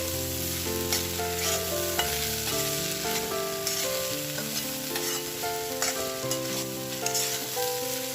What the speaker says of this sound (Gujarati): એને આપણે હલાવતા રહીને એને થવા દેવાનું છે